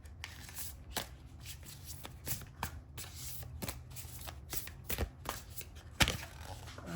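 Tarot cards are shuffled by hand in a quick series of crisp riffles and slaps, close and fairly quiet, with irregular bursts and short pauses between them.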